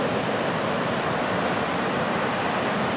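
Steady broadband roar of Pacific Ocean surf, continuous and fairly loud with no distinct breaks, like close waves washing ashore without voices.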